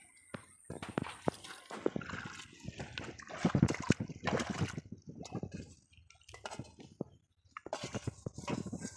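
Water being bailed by hand out of a small hole in a village to catch native fish, heard as irregular close splashes, drips and sloshing with scattered knocks and brief pauses.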